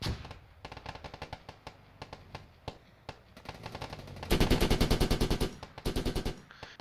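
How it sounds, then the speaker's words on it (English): A BTR armored vehicle's gun fires in a military shooter game, giving rapid bursts of automatic gunfire that grow louder and denser toward the end, with other shots in the background and no talking. "the BTR gun is shooting at FSQ"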